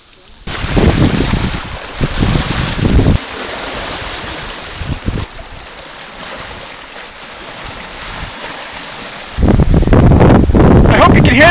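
Strong wind buffets the microphone on the shore of Quetico Lake, a loud roaring rush that surges and eases, with someone speaking briefly over it.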